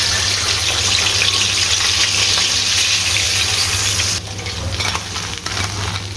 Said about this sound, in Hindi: विंग्स को फ्राई होते हुए और ये ज़बरदस्त फ्राई हो गए हैं।